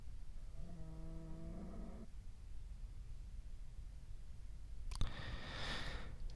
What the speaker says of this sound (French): on entend une vache, ça m'a déconcentré un peu